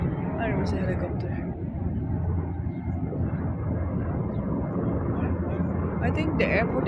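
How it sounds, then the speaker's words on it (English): A helicopter passes over Yokohama, its loud rotor rumble steady and near, with someone talking over it. "I can see the helicopter over there. It was so noisy."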